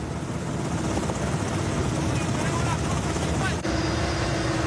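Helicopters flying low over a river in a mining area during a military operation, a dense continuous rotor roar with steady thumping, loud and unbroken.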